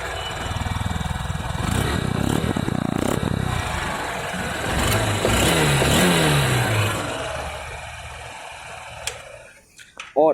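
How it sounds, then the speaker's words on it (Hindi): A 2024 Honda SP motorcycle engine runs and revs with a rough, throbbing idle, rising and falling in pitch before cutting off near the end. "अगर मैं इसके इंजन की एक बार साउंड सुना दूँ"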